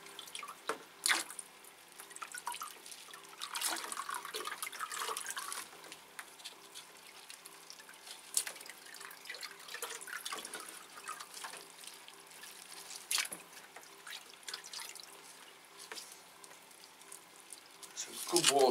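Water splashes and drips as Phragmipedium orchids get a thorough watering, with trickles and droplets hitting pots and foliage close by, while a person talks quietly throughout.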